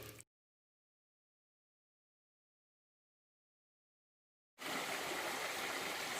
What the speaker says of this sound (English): enjoying the sounds of this lovely little brook over which the path continues